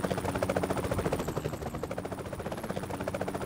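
A helicopter in Train Simulator 2021 drones steadily with a fast, pulsing rotor chop and an engine whine, sitting fairly near and constant throughout with no voices.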